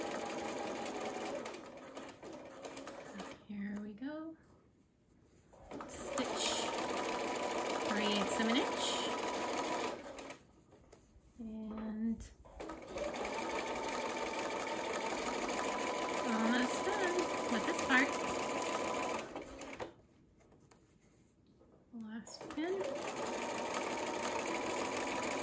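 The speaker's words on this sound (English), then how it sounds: "the needle in the down position holds your place, so your sewing doesn't get kind of erratic or crazy" Sewing machine stitching a flannel burp cloth, running in steady bursts of mechanical whirring separated by short pauses, with quiet handling sounds in the gaps.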